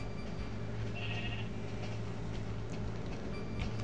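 A sheep in Minecraft Alpha gives a short bleat against steady low background game sound, with no talk over it.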